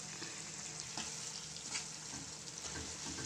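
Chicken frying in the hot oil left in a pot for an Andhra chicken dum biryani, a steady, fairly quiet sizzle with light crackles and a few stirring scrapes, no voices.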